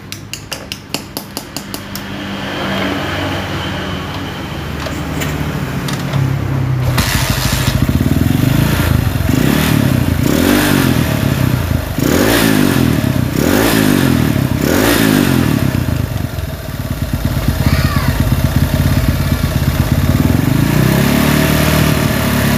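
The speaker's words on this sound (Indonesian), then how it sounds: "kita nyalakan dari bagian motore" A Honda CG motorcycle engine starts after a few rapid cranking pulses, then runs loud and close with a throbbing, uneven idle and several revs rising and falling, briefly dipping before picking up again.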